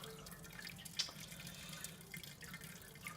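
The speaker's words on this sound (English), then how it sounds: "so that we get as much water dripping through as much of the grain bed as we can" Sparge water trickles and drips through the grain bed of a honey ale mash during brewing, a soft steady wet patter with one sharper drip standing out, close and fairly quiet, with no talking.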